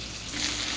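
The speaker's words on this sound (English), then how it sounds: "So it's frying in olive oil and butter" Chicken frying in olive oil and butter for chicken marsala, a dense, steady sizzle heard up close and fairly loud, continuous throughout with no voices.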